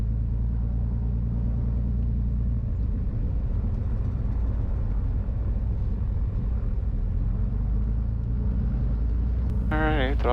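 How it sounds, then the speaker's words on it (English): A Twin Cessna on departure from runway 30 at Defiance, its engines producing a steady, loud low drone and rumble heard from inside, with a voice talking over it and a brief rising whine at the end. "Twin Cessna 771 Bravo Charlie's departing runway 30 straight out Defiance"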